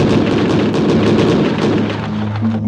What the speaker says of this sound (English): The powerful 6-barrel cannon deserves a separate attention.